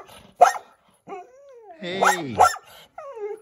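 A Goldendoodle barks and whimpers close by, with short yips and a rising whine sounding in bursts, while a person speaks briefly over it.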